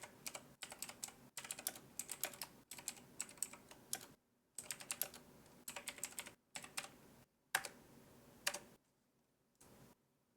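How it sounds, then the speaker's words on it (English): Quick clattering keystrokes on a computer keyboard come in close, steady bursts separated by short pauses, with no talking. "I can't see what I'm typing."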